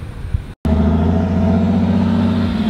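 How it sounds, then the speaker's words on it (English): Loud truck engine droning steadily while driving, a brief cutout early on and then a constant, heavy hum close by without any talking. "Why is the truck so loud?"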